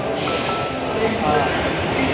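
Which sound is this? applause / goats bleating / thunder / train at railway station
train at railway station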